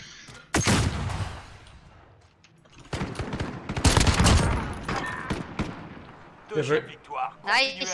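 Gunfire in Call of Duty Modern Warfare: bursts of rapid shots rise sharply, with a long dense volley in the middle, while voices talk over and around the shooting.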